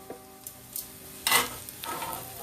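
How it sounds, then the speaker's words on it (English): Peppers and onions sautéing in a pan for a steak and cheese sub, a quiet crackle with a few brief stirring scrapes and one louder burst of sizzle, no talk. "Now our peppers and onions have sauteed, so I'm going to remove them from the pan here"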